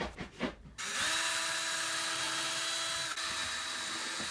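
Power drill running while building a wooden catapult, spinning up after a few faint knocks into a steady, sustained whine close by.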